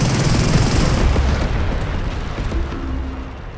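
Rocket explosions from an aircraft combat video game, an F-100 firing at bot targets: loud continuous booming blasts that fade slightly over a few seconds, with no talk over them.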